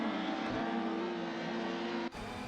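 BTCC touring car in a racing video game pulling out of the pits at Snetterton, engine holding a steady loud whine before a brief dip and shift near the end, with no talking.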